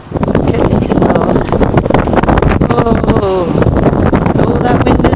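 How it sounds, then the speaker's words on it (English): Strong cold wind gusts across an open city rooftop, roaring steadily into the microphone throughout with no letup, while faint voices and distant traffic murmur underneath. "Oh, that wind is freezing."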